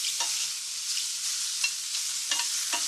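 Mushrooms seared in a pan over high heat give a steady, close sizzle with light crackles and occasional stirring scrapes, with no talking.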